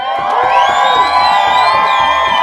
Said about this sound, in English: give these guys a big fucking round of applause.